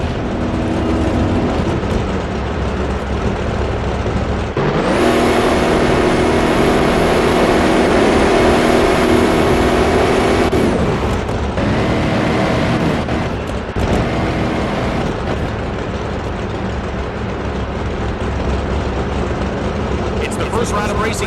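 Drag racing cars at the Texas NHRA Springnationals in NHRA Speed for All make a first-round run, engines roaring loud and sustained with a surging burst in the middle, under a commentator talking.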